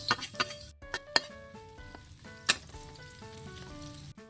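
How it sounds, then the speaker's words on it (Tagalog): Garlic and onion sautéing in a pan for pancit miki with tofu, with a close crackling sizzle broken by a few sharp clinks and scrapes of the utensil against the pan. "manggigisa sa tayo. Lagay tayong bawang sa sibuyas."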